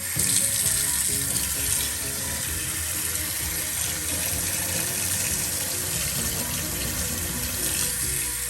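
Tap water runs steadily into a sink while dyed pink knit shoes are rinsed, a continuous close splashing gush with no talk over it.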